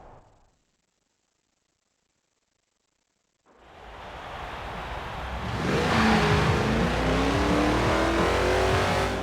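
A 1976 Jeep CJ5 Renegade in Forza Horizon 4 starts up after a short silence, its engine note rising as it accelerates and growing louder with revving and tire noise, with no talking over it.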